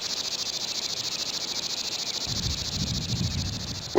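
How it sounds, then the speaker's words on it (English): A dense, continuous chorus of periodical 17-year cicadas, pulsing high-pitched buzzing filling the scene, with a soft rustle coming in partway through. "17-year cicada."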